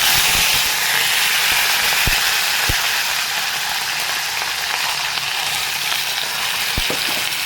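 Mustard seeds, urad dal and curry leaves fry in hot oil, giving a loud, continuous hiss with a few sharp pops and clicks scattered through it.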